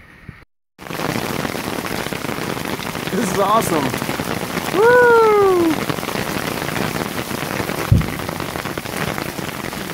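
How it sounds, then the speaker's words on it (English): Heavy rain pours steadily on a fishing outing, a dense loud hiss throughout, with a person briefly whooping and speaking excitedly over it. "It's raining pretty hard."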